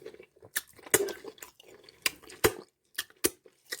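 Someone bites and chews crunchy onion bhaji made from onions and potato, close crisp crunches repeating at an uneven pace with soft chewing between, no talking.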